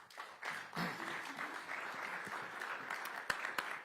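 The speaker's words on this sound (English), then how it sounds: "Another round of applause for our" Conference audience applauding speakers at the end of a session, a steady wash of many hands clapping for about four seconds with a few sharper claps near the end.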